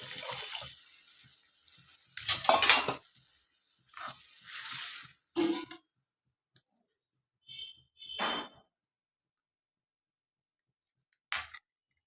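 Water is poured from a bowl into a pot of Bengali chana dal in a few short splashy bursts, each separated by quiet gaps, ending with a brief final splash.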